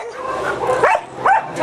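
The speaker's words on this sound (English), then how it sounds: "He's really not that bad for a year old dog." A one-year-old dog gives high yips and whining whimpers in quick succession, close by, over a steady background of indoor noise.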